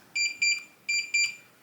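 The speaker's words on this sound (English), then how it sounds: "you're going to hear a long beep and see a green flash here, meaning your code has been added" A Kwikset keypad lock sounds a bright electronic confirmation tone after a new code is added, two pairs of pulsing beeps, close and clear in a quiet room.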